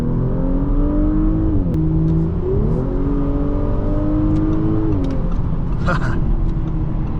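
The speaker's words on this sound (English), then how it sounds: "this car can really hustle" A 2024 Audi S5 3.0T Sportback Premium Plus accelerating hard from inside the cabin, its turbocharged engine note climbing through rising, shifting gears with a brief dip at each upshift, steady and loud throughout.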